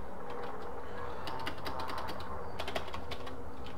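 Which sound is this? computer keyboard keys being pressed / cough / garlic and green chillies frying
computer keyboard keys being pressed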